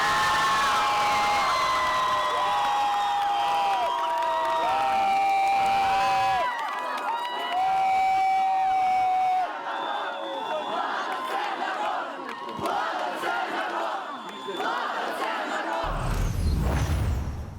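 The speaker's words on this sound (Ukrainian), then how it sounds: "А результати голосування зустріли оплесками." A crowd cheers, whoops and applauds parliamentary vote results in Ukraine, with loud sustained shouting that thins out midway and swells again near the end.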